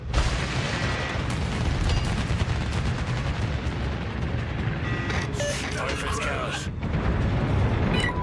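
Naval gunfire strikes a ship in World of Warships during a Killer Whale operation, heard from a tier 6 HMS Furious carrier. Heavy, continuous booming and rumbling impacts fill the mix, with short in-game voice alerts over the top.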